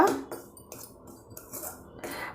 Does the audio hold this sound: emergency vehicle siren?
no